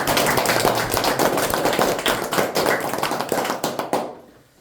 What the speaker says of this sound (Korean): 우리 다 같이 박수 한번 드립니다.